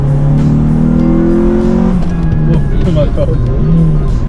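A 1986 Toyota Celica GTS engine revs through the mid-range, a loud close droning tone that climbs steadily before dropping back into a rougher rumble.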